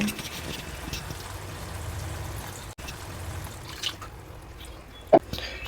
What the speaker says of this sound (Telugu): ఇప్పుడు కొద్దిగా వాటర్ పోసుకోండి